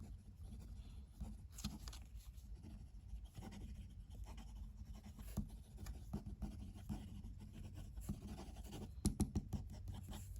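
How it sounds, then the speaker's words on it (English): A Laban Solar fountain pen with a wet, medium nib writes quickly on paper, giving a steady close scratching that runs continuously, with a few sharper scrapes near the end. "This pen is just going to keep writing and writing and writing."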